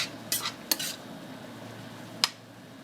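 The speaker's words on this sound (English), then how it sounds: "we're just going to stir the bottom and get those wonderful brown bits up" Stirring a pan deglazed with tasso, onions and garlic: a few sharp utensil scrapes and clinks against the pan bottom over a faint low sizzle, quiet and sparse, with no voices.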